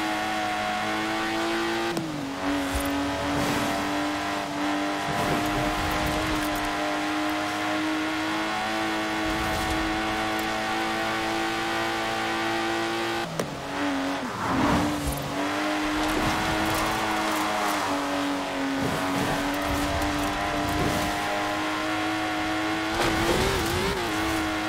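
A Lotus sports car in Forza Horizon 4 drones with a loud, steady engine note. Its revs shift and re-settle around three times, with no voices.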